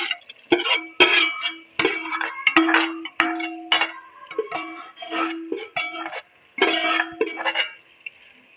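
Fried taro (arbi) being stirred into chicken in a metal pot, with a series of sharp spoon clanks and scrapes in uneven bursts and short pauses between them, close and clear with no talk.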